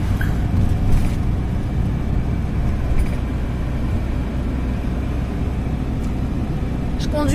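A converted camper van rolls slowly along a mountain road in Greece, its engine a steady low rumble with road noise filling the cabin, loud and continuous for the whole stretch with faint clicks over it.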